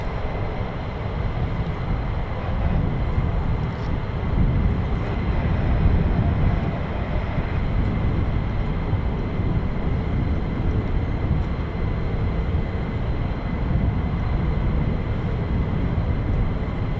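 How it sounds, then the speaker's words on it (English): Military jets landing at RAF Lakenheath, F-15 and F-35 fighters of the 48th Fighter Wing, make a loud, steady, broadband roar that holds throughout without a break and with no talking over it. "A couple more aircraft just coming into land"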